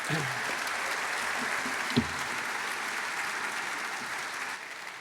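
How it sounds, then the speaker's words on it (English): An audience at an economic forecast summit applauds steadily, a dense patter of clapping hands, with a few faint voices underneath. "big round of applause for Chris."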